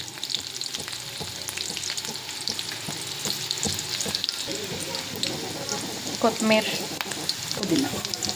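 Onion and green chillies fry noisily in a pan, a dense close crackle with stirring scrapes that grows busier toward the end, while a voice talks over it.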